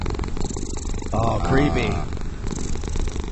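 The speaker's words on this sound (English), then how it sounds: "Here's a cat purring." A recorded cat purrs from a phone sound app, a low continuous rumbling drone that runs under a brief spoken remark.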